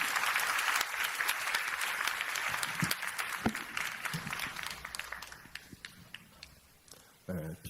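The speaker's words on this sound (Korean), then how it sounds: "우리 목사님 나오실 때 큰 박수로 우리 환영해 주십시오." A church congregation breaks into loud, dense applause to welcome the pastor, which thins out and fades over several seconds before a voice begins speaking at the end.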